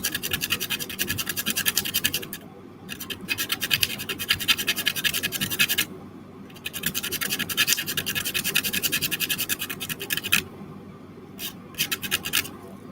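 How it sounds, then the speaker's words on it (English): Steady scratchy sanding on a scratch-built plastic model part, with long continuous strokes broken by short pauses, close and fairly loud, with no talk. "I really don't even need to sand, but I do need to sand just because I didn't cut in the right place."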